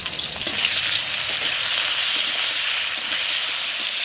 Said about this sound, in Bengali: আলুগুলো খুব সুন্দর দেখুন লাল লাল করে ভাজা হয়ে গেছে